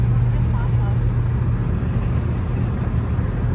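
A BMW 335i accelerating hard on a cold day, its engine a steady loud drone heard from inside the car with no clear breaks for gear shifts, while people talk over it.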